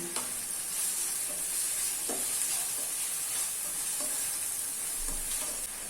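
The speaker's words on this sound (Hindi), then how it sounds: "अभी इसमें 2 फाइनली चॉप किए हुए ऑनियन ऐड कर लेना है और मिक्स कर लेना है।" Finely chopped onions frying in a pan for mutton keema, a steady close sizzle that never lets up, with a few soft spoon scrapes now and then as they are stirred.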